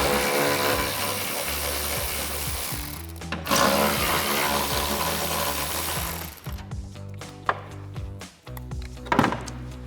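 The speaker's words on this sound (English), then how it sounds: "So grab a ratchet and a 10mm socket" A ratchet with a 10mm socket backs out factory bolts on a 2024-2025 Toyota Tacoma, a steady buzzing mechanical run up close that stops midway, followed by a few scattered clicks and knocks.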